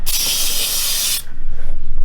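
An aerosol can of spray adhesive hisses in one steady, close burst for just over a second as it coats vehicle headliner ceiling fabric, then cuts off to quiet room noise.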